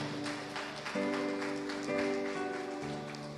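A church congregation applauds during a communion service, producing a soft, steady wash of clapping under sustained organ or keyboard chords.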